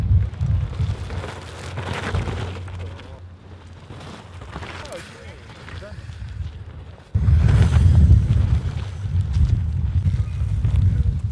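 Rain patters and hisses on a downhill mountain bike course during a World Cup event at Loudenvielle, a broad wash of noise that swells louder partway through, with people talking over it.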